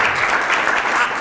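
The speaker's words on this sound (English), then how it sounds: "we need to give them another round of applause for doing this" Audience applause at a county district meeting, a dense burst of loud clapping from a crowd filling the short moment.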